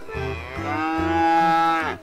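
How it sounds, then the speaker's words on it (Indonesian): A black calf moos once in a long, loud, close call lasting about two seconds, with no other sounds around it. "ada anak sapi grandong."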